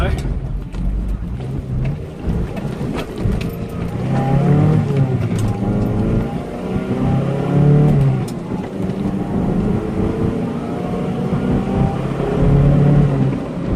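A Mazda B2600 4x4 pickup with a new exhaust drives along, its engine rumbling and rising through revs in several surges and shifts, heard from inside the cab and fairly loud, with a person talking over it.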